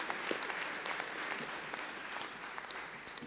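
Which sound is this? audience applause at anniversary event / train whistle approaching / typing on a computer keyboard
audience applause at anniversary event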